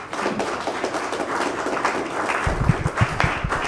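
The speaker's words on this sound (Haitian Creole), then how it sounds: "m'a demandé un tonnerre d'applaudissements pour la direction générale." A crowd at a Haitian public event applauds the general management, steady dense clapping throughout with a few louder claps near the end.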